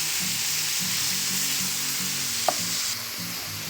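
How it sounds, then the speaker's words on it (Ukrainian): Steady, loud sizzling of onions and button mushrooms frying in a pan, a continuous hiss with one faint clink midway. "Тепер будемо смажити усе разом до готовності."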